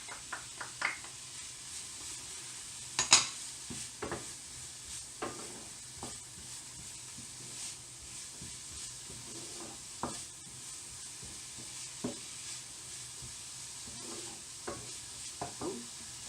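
Finely diced orange pepper sizzles softly in a pan while being stirred, a steady low hiss broken by recurring scrapes and clinks of the utensil against the pan, with no talking.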